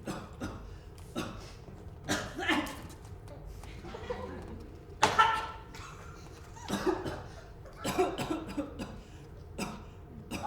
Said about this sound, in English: The cough still got you?